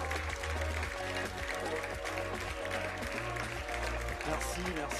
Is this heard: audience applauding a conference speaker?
yes